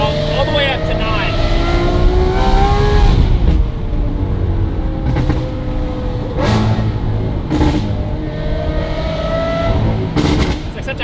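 A Lamborghini Aventador Ultimae V12 with valved exhaust revs hard past 6,000 toward 9,000 rpm, climbing in pitch, a loud rasping exhaust howl with brief gear-change dips, continuous and close.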